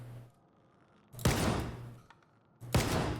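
Saiga shotgun firing slugs in Stalker 2, two loud, separate blasts about a second and a half apart, each with a sharp crack that rings out and fades over a steady low game hum.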